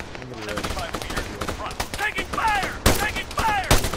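Rapid gunfire bursts crackle in an Arma 3 attack on a fuel depot, loud and near, mixed with shouted voices.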